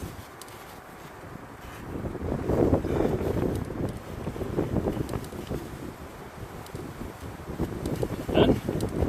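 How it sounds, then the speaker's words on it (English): Wind gusting outdoors during a 2006 Audi A4 2.0 TDI service, a low rumbling buffet against the microphone that swells and eases throughout with no clear speech. "it's a little bit windy today"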